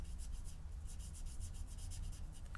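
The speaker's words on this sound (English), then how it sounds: "you just sort of blend, rub on it a bit, and it just blends the colour in" Soft, steady rubbing on a card to blend wet colour for card making, a quiet repeated scraping swish close up with no talking.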